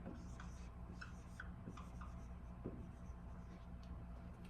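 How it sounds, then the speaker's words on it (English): Marker or chalk writing on a board during a math lesson, soft rubbing and scratching strokes in short bursts against a steady low background hum, fairly faint and close, with no talking. "I'm gonna write it over here."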